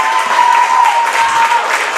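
Crowd roaring and cheering at a high school varsity boys' basketball game between Portland and Bangor, a loud, sustained wash of cheers and applause that swells and holds throughout.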